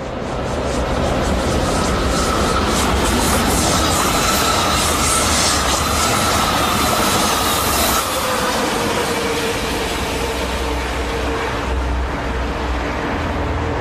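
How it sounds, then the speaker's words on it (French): An SNCF Grande Couronne suburban train set rushes past on a fast track on the Paris–Dijon line, a loud, sustained roar with rapid clickety-clack of wheels and a faint squeal that eases slightly toward the end. "Sur voie 2 rapide, se présente une rame dite de la Grande Couronne"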